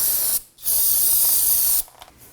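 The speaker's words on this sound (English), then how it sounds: "spray it down with some spray solvent to clean up" Two long, steady hissing sprays from an aerosol can of solvent cleaner during a Toyota Camry rear wheel bearing and hub replacement, the second lasting over a second, separated by a brief pause.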